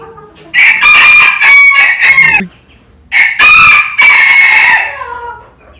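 A rooster crows loudly twice, each call long and strained, with a short pause between them and no talking.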